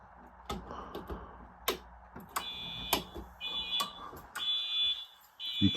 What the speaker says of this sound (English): It pulsed the NAC, and it was set up for zone 5, so it did 5 pulses.